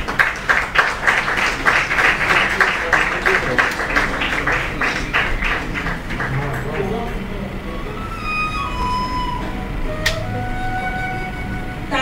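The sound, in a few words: audience applause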